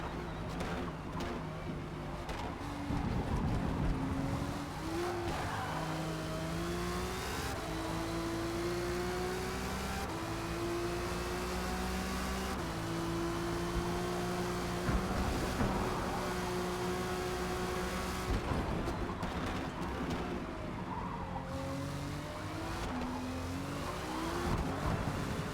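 Race cars in the Forza Motorsport video game run a lap, with engines droning steadily and the pitch rising and falling through gear changes, plus occasional tire squeal, loud and continuous with no speech.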